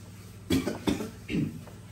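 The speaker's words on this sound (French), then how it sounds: "Excusez-moi si je tousse, je suis un peu souffrant" Three short coughs from a slightly ill speaker, close and fairly loud, spaced about a second apart with quiet between them.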